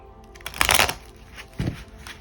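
Two quick bursts of riffling tarot cards being shuffled, close and crisp, the first longer and louder than the second.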